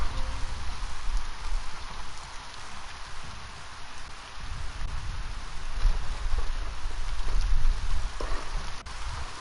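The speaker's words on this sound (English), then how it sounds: "Now the rain's coming with the wind" Steady rain falls outdoors during a storm while wind pushes against the microphone, a continuous hissing wash with low rumbling gusts that swell toward the end.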